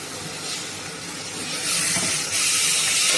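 Tomato paste frying in a pan for tomato rice, a steady close sizzle and hiss that grows a little louder midway and keeps on without pause.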